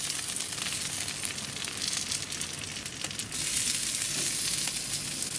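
Blue cheese burgers sizzle loudly and steadily on a BBQ grill, a dense crackling hiss that runs unbroken and close throughout with no talk.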